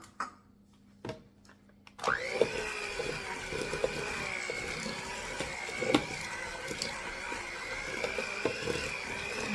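After a few quiet clicks and knocks, a stand mixer starts up and runs steadily, whirring as it beats softened butter with 1.5 cups of sugar for a lemon blueberry bundt cake, with small scraping clunks along the way.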